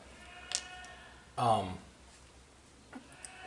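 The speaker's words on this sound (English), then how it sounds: "You hear the goats yelling?" A single loud goat bleat close by, followed by a couple of fainter calls and quiet background noise.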